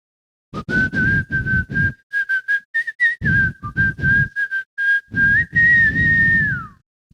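A person whistles a song tune close and loud, holding sustained and gliding notes in a melodic line over a steady, rhythmic percussive pulse.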